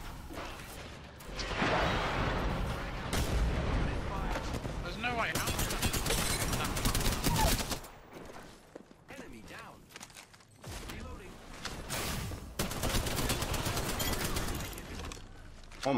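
Rapid gunfire from Apex Legends gameplay, dense bursts of shots that run steadily through most of the stretch, dipping briefly midway before resuming loud, with a voice talking underneath.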